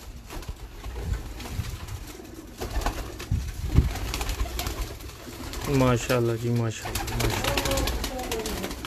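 Pigeons at a breeder's loft coo in a short run of close, rounded calls partway through, while people talk throughout over a low background.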